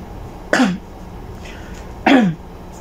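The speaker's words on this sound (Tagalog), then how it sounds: "Kasi inuubo ako." Two short, harsh coughs about a second and a half apart, close and fairly loud, with quiet room noise between them.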